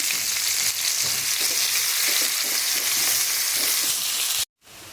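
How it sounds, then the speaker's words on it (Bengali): Chopped onion hisses in a pan of hot oil while cooking for a Bengali rohu fish kalia, a dense continuous sizzle with faint stirring that cuts off abruptly near the end. "এখানে আমার পেঁয়াজটা হালকা ভাজা হয়ে গেছে"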